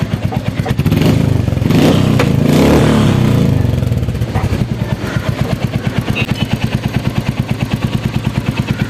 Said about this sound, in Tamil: வண்டி ஸ்டார்ட் பண்ணி பார்ப்போம் நண்பர்களே எப்படி இருக்குன்னு